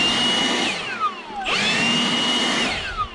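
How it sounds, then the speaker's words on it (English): Power blower clearing loose dirt out of precast deck pier holes outdoors, a loud close whine that dips and revs back up midway, then winds down toward the end. "Just blow these out. Any dirt that got down in there."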